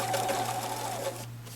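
A sewing machine runs steadily while stitching machine smocking along a curved seam, with a loud continuous motor hum and rapid needle chatter, then a slight drop in level near the end.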